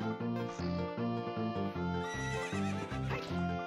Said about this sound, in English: Right now we're just riding a horse.